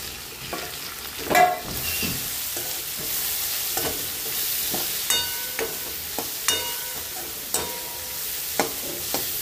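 Red chili powder and mutton masala frying in oil with bombil fish for a rice dish, a steady close sizzle broken by scraping strokes of a spoon against the pan.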